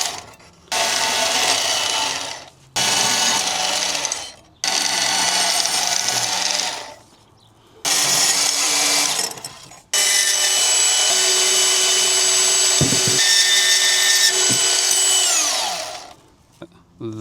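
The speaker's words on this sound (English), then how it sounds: "now we're going to cut these out of the spar" Power tool cutting pieces out of a wooden spar for a toilet paper dispenser build, several loud close bursts of harsh buzzing separated by short pauses, then one long sustained cut with a steady whine.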